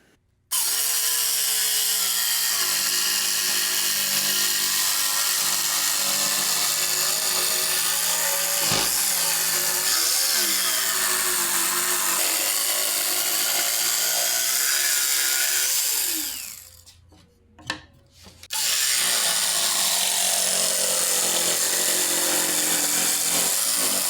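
A power tool saws through wood cutouts for a stagecoach frame, a steady loud whining drone that holds for long stretches, dips briefly into near silence, then starts up again.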